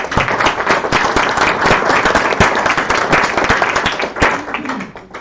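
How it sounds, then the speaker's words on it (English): Loud, close applause from staff at an all-staff meeting, with sharp individual claps standing out in a brisk, dense burst that tapers slightly near the end. "So we can give everyone a round of applause."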